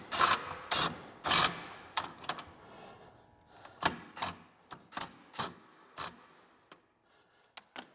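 A bolt is worked out of a shock mount on a Can-Am RC Turbo R, a series of close ratcheting clicks and clunks, dense at first and then spaced out and fainter.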